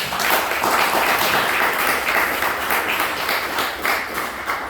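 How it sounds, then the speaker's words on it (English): Warm applause fills a studio performance space for a performer's wife, a thick, continuous wash of clapping from a nearby audience with no voices on top. "Round of applause for my wife."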